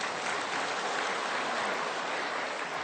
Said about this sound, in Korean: 좀 박수 한번 해야죠.